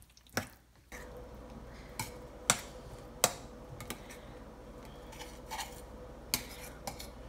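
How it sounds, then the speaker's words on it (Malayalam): A spoon stirring cashew nut pachadi in a pan, producing a few sharp metallic clinks and taps against the pan over a quiet, soft wet background, with irregular gaps between the strokes. "നന്നായി ഒന്ന് മിക്സ് ചെയ്ത് കൊടുക്കുക"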